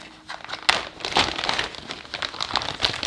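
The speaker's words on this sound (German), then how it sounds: "Und ich packe die einfach immer so eine Tüte rein, weil die ja eben an der Luft trocknet" Air-drying modelling clay from Stetter is packed into a plastic bag, giving close, irregular crinkling and rustling bursts of plastic that continue throughout with no talking.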